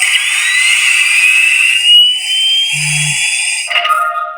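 A Rey Skywalker NN-14 blaster prop with a Proffie sound board plays a loud electronic effect as its hammer is flipped up: a bright, steady whining tone with a brief low buzz, ending in a shifting electronic chirp.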